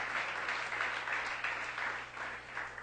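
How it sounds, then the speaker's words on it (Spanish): A church congregation applauding during a sermon, a dense, steady roar of clapping from many people that swells and dips slightly, heard alone without speech. "denle un fuerte aplauso al Señor"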